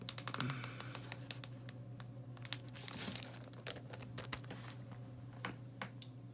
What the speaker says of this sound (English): Zip that sucker up.